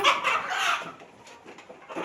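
Native country chickens cluck at a chicken farm, a dense, close chorus of overlapping clucks and calls that fades a little midway and then swells again.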